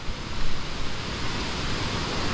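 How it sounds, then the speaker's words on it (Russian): A powerful mountain waterfall rushes down somewhere ahead on a trail, giving a loud, broad, continuous roar of falling water that surges slightly at first and then holds steady. "Там, наверное, вообще водопад серьезно срывается."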